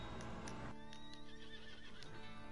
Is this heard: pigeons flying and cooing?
no